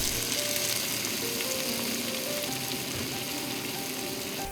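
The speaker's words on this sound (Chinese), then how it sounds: "油热了之后，倒入虾" Shrimp sizzling vigorously in hot oil, a dense steady crackle that fills the whole stretch without any talking.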